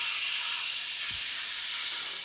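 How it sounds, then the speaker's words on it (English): Thick ribeye steak searing on a cast iron pan for a reverse sear, a loud, steady sizzling hiss close by, with a single soft low thump midway through. "Now you hear that sizzle."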